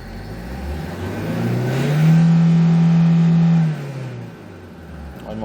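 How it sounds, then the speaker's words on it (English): A Kia Bongo III 1.2-ton diesel truck engine with manual transmission revs up to a held, higher-pitched drone for a couple of seconds, then drops back to a low idle. "Let's try to accelerate, show you the"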